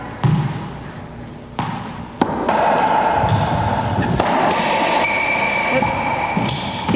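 Racquetball backhand shots smack and thud off the court walls in an echoing indoor court, several sharp hits spaced across the moment amid reverberant room noise and some talking.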